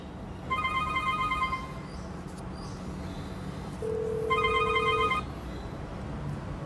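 An IP PBX telephone rings in two electronic bursts with a steady tone between them, set against a low background hum.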